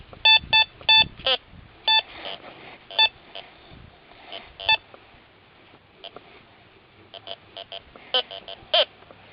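A Teknetics Eurotek Pro metal detector sounds off over a quarter buried about six and a half inches deep, giving repeated short, sharp beeping tones in clusters and pairs with quiet gaps between sweeps, alone without speech.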